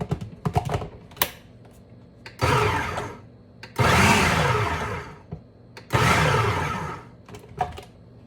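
A food processor pulsing an arancini rice mixture in several short bursts, each a loud whirring roar lasting about a second, separated by quiet gaps with light clicks and taps.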